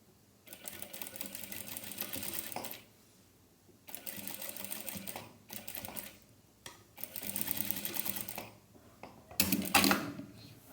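A sewing machine stitches a seam in fabric in several separate bursts of rapid, close mechanical whirring, with quiet pauses between them.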